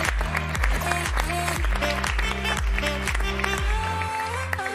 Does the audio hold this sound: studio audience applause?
yes